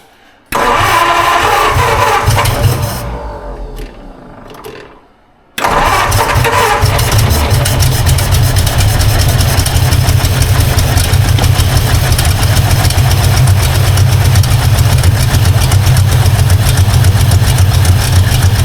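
An old 1952 Ford Crestline engine cranks, catches and keeps running on its own. It stumbles briefly before settling into a loud, steady, rough idle close by.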